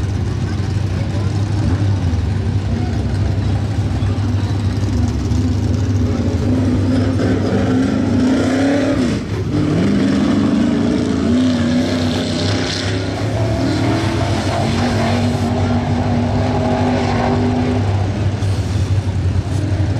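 A late model race car on a qualifying lap at a racetrack, a loud, continuous engine drone that rises and falls as it circles, with an announcer talking over it.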